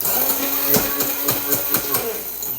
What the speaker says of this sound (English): Then they all used an Emersion blender.